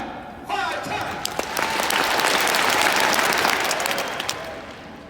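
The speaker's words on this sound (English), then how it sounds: "If you love this company and you love this brand, clap 5 times." A large business-event audience in Salt Lake City bursts into loud, sustained applause, with a crisp crowd of claps and a few sharper individual hand strikes standing out.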